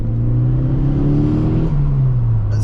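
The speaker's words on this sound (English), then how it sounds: "all those lovely turbo spool sounds" Ford Fiesta RS Turbo engine revving with a whirring turbo spool, a loud, close, steady drone whose pitch sags slightly over a few seconds.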